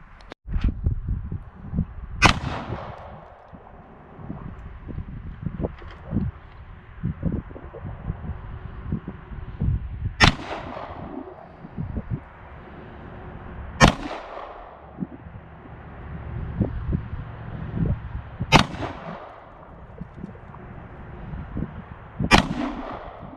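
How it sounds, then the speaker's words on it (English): Gunshots from 9mm and .45 pistols, a shotgun and an AR-style rifle ring out at an outdoor shooting range, with sharp reports spaced every few seconds over quieter handling noise. "We're going to be shooting 9mm 45 shotgun AR."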